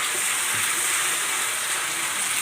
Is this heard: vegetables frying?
yes